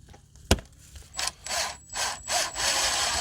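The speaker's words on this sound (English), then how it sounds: "screw it back in." Plastic valve handle cover on a Hayward pool filter XL valve being screwed back in, a sharp click followed by several close, short scraping turns in quick succession.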